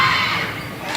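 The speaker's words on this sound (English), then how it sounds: "Crowd started to get a little bit loud." Crowd noise swells at a high school girls basketball game in a gym, a loud steady roar of shouting and cheering spectators that stays sustained through the whole moment.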